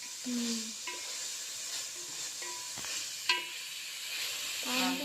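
Bottle gourd pieces hit hot oil in a pan and sizzle with a steady hiss, with occasional clinks and scraping of a utensil in a home kitchen.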